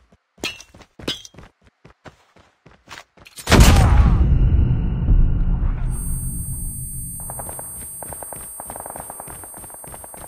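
A grenade detonates in Call of Duty Mobile gameplay, a single heavy boom after a run of sharp clicks and taps, its rumble decaying over several seconds beneath faint tones and small rattling bursts.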